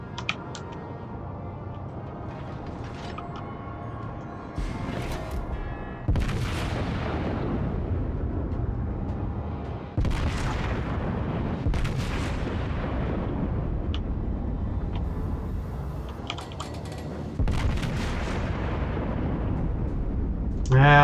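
Naval guns in World of Warships boom in several heavy salvos, each a loud deep blast with a long rumbling tail, spaced a few seconds apart during a ranked battle, with a voice talking faintly at times.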